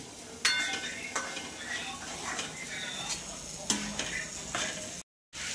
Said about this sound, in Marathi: तर याला हलवत राहायचे म्हणजे मिक्स करत राहायचे